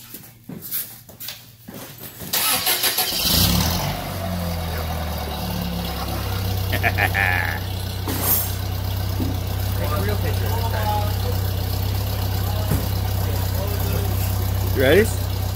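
A snowmobile engine is pulled over, catches after a couple of seconds, and settles into a loud, steady close idle with some brief revving, while people talk over it.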